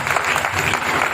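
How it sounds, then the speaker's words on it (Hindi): An audience at a Friday training session claps loudly together for a guest. The applause is dense and continuous throughout the short stretch, and no voices come through. "मैं चाहूंगी एक बार नरेश सर के लिए जोरदार ताली हो जाए"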